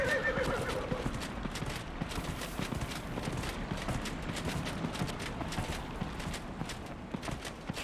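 A horse in the video game Dragon Age: Inquisition whinnies at the start, then hooves clip-clop in a fast steady rhythm while the horse gallops, fairly quiet under faint game ambience.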